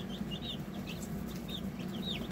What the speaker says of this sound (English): 25 Cornish crosses from the chick hatchery, and they all look pretty lively